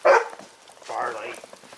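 A pet dog barks close by in a short loud burst, then a softer yelp follows, with people's voices mixed in around it.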